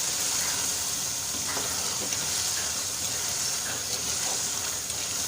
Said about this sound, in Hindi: अब इसके अंदर हम शामिल करेंगे पिसा हुआ गरम मसाला 1/2 टीस्पून और इसको करेंगे अच्छे तरीके से मिक्स